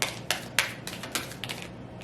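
Tarot cards being shuffled by hand, a run of sharp papery riffles and taps spaced about a quarter second apart, close and fairly quiet, with no voices.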